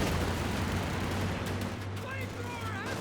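A .50 cal machine gun fires bursts in the WWII real-time strategy game Company of Heroes 2, distant battlefield rumble and shots churning steadily under a commentator's speech.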